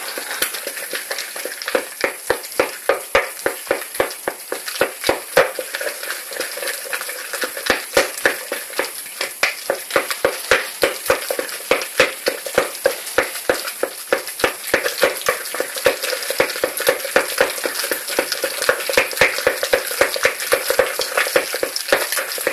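Egg is beaten into thick choux pastry dough with a spoon, producing rapid rhythmic wet slapping and clicking strokes, close and continuous with no voices.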